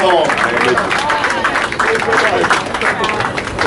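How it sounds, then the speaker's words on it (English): Applause and cheering from the crowd at a clam eating contest, steady and fairly loud throughout, with an announcer talking over it. "Give her a round of applause. Come on, make some noise."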